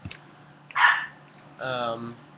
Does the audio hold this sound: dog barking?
yes